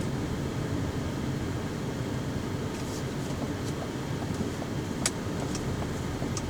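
A 2014 Ford Escape Titanium pulling away from a stop, heard as a steady broadband road and engine rush from inside the cabin, with a few faint clicks near the end.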